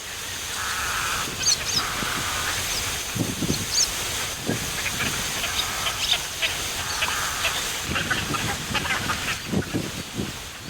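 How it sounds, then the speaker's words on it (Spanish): A flock of migratory waterbirds in Iranian wetlands at dawn keeps up a loud, dense chorus of honks and cackling calls, with frequent overlapping bursts over a constant hiss of wings and background. "aparecen de repente al amanecer y hacen que se escuche un alto ululeo en los humedales"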